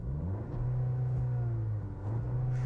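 2026 Volkswagen Tiguan turbo engine from inside the cabin: a steady low hum and rumble with a slight rise and dip in pitch, fairly subdued and continuous, no talking.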